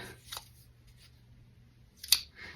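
Scissors snipping out small paper pieces for a handmade card, two short, crisp cuts about two seconds apart, close and soft, in a quiet room with no speech.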